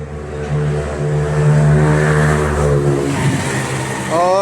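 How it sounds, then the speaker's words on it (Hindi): A Hero Destiny 125 scooter engine with a worn, noisy main bearing runs steadily in a workshop, a loud continuous drone with a slight rev swell near the end. "अब स्टार्ट हो रहा है पर इसका जो है बैरिंग आवाज़ कर रहा है।"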